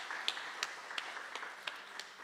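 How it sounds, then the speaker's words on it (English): Faint, distant clapping at an awards ceremony, with a few evenly spaced sharp claps standing out over a soft hiss of crowd noise. "Another round of applause."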